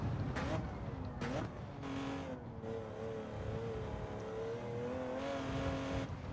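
A Porsche 917 race car engine in Gran Turismo 7 at Spa, a high whining engine note that rises and falls through gear changes, heard steadily over several seconds without speech.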